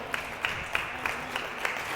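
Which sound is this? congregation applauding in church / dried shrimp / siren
congregation applauding in church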